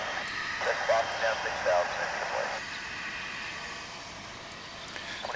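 A Sun Country airliner arrives at DFW airport, its faint, distant jet roar a steady hiss beneath nearby conversation.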